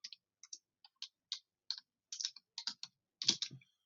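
Fingers type on a computer keyboard up close, a quick string of crisp, light key clicks in uneven bursts that grow denser toward the end, with no talking.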